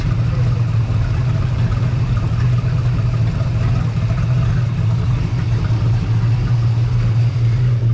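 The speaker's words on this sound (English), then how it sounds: "it'll divert that exhaust through the sides of the hull. And you can hear the change in sound" The engine of a 1996 Chaparral 2330 Sport bowrider rumbles steadily at idle, exhaust diverted through the sides of the hull, a low, even drone that holds constant throughout.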